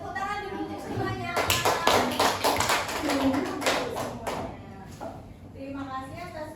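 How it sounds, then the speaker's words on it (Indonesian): A classroom of students claps for everyone after a group presentation, a few seconds of lively close applause with a teacher's voice heard before and after it. "Oke, tepuk tangan dulu untuk semuanya."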